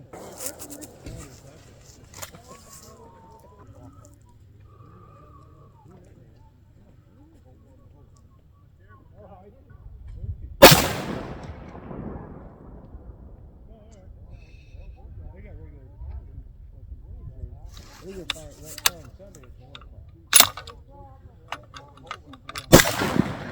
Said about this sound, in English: pop 3 shots through this and see what kind of difference we have with recoil